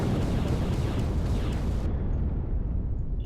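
Goa'uld warship in the Stargate Invasion game unleashing all its weapon batteries at once, a dense, continuous rumbling barrage of blasts and booms that cuts off sharply partway through, leaving a low lingering roar.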